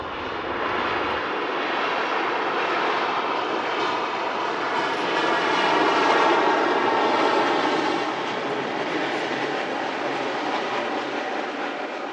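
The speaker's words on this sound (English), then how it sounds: "Emirates A380 push back" Emirates Airbus A380 engines during pushback, a steady, loud broadband roar with a whining drone that holds for the whole stretch and swells slightly midway, no voices over it.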